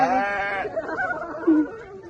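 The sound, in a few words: sheep bleating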